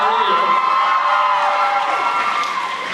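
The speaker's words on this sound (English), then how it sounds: "The loud and the proud, I love that cheer." A speech audience cheers loudly and continuously, a dense wash of shouts, whoops and raised voices with some high children's cries, holding strong for several seconds before easing slightly.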